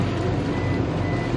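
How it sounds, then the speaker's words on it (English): A boat's shallow-water alarm beeps steadily over a low engine rumble and rushing noise. "Shallow alarms going off"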